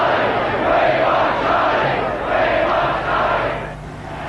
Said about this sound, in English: The crowd called for Prince Charles.